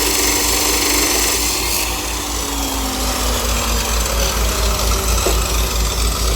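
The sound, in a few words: cut-off machine running during a test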